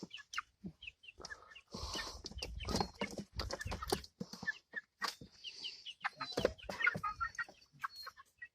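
Backyard chickens, including a hen named Ducky, cluck and chatter in irregular bursts at close range, with sharper calls scattered through and no talk.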